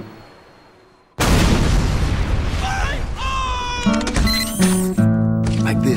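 Heavy gunfire from a mounted sentry gun in Team Fortress 2 erupts abruptly after a brief quiet and keeps roaring loud and dense, joined by ringing mechanical tones toward the end.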